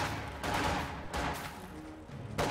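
Machine-gun fire in the World War II strategy game Company of Heroes, with Grenadiers supporting the guns. Bursts of rapid gunfire come in several loud clusters separated by short pauses.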